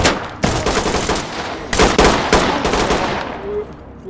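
Gunfire in the tactical shooter Ready or Not, with several loud close bursts of automatic fire and single shots with sharp onsets, each trailing into a reverberant decay.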